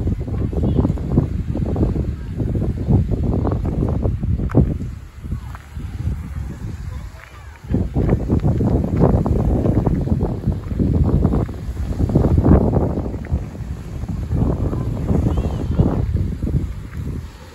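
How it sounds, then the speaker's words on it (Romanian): Steady wind at Sani Beach, Halkidiki, Greece, buffets the microphone with low, gusty rumbling that rises and falls throughout, briefly easing midway. "Bate puțin vântul."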